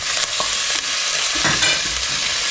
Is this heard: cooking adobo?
yes